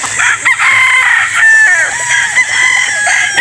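A white gamefowl rooster crows loudly and close at a game farm in Batangas, one long drawn-out call with a few clucks around it.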